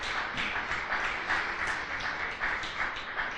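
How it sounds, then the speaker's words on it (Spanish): Quiet applause from a church congregation, with a little crowd noise, heard for a few seconds as soft, uneven claps that are fairly distant and faint. "Dale un fuerte aplauso al Señor."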